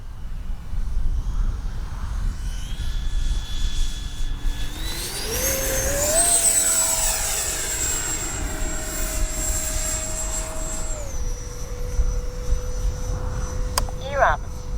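A Freewing L-39 RC model jet whines through a flyby, its turbine tone rising sharply in pitch, holding loud and close, then dropping to a lower steady whine over outdoor background noise.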